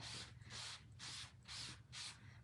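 A board eraser wipes across a letterboard in five even, rhythmic strokes. The soft scrubbing is quiet and close, with no voices.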